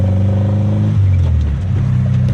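Engine of a 1974 VW Beetle with a cylinder head problem running loud and close, a steady low droning idle that shifts pitch partway through, with faint clattering on top.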